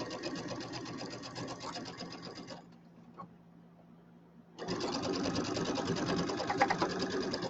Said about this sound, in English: put my needle down. There we go. And 1/4 inch seam.